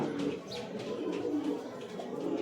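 Pigeons coo softly in a loft, low rounded calls rolling continuously beneath a faint background hum, close and fairly quiet.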